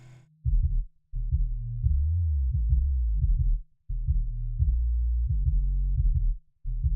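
Muffled dance music heard as if through a wall, only the thumping low kick and bass pulsing steadily, all highs cut away.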